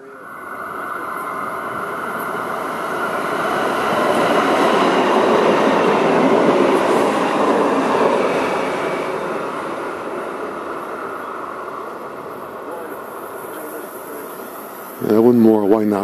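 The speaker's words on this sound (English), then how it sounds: "Train is approaching" A light rail train rumbles past steadily near Robert E. Lee Park, building to a loud broad roar midway and fading slightly, followed by a sudden short burst of noise at the end.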